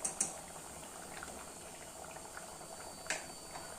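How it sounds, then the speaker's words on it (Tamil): Fenugreek leaf dal kuzhambu bubbles in a pot, giving a soft, continuous simmer with scattered small pops and a couple of louder clinks, with no talking. "நல்ல சலசலன்னு கொதிக்குது."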